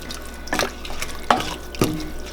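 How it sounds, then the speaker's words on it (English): Vegetable broth poured from a container into a pot of corn chowder, several short splashy gurgles and drips at irregular intervals, close and moderately loud. "I'm just going to fill the rest with veggie broth."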